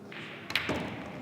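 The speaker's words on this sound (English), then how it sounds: "And now comes the break shot." A cue ball strikes the rack on a break shot in 14.1 straight pool, giving one quick sharp clack followed by a soft rattle of scattering balls, faint and some distance away.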